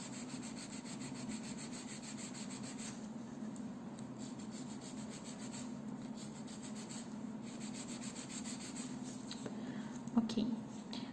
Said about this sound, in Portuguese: Vou lixar só mais um pouquinho esse lado.